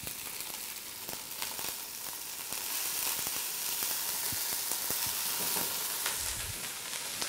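Barberries (zereshk) frying in ghee give a steady, fairly loud broadband sizzle with scattered crackles and pops throughout, close by and with no talking.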